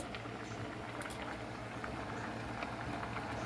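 Water at a rolling boil in a pot for spaghetti noodles, a steady, faint bubbling and pattering hiss that carries on unbroken with no voices.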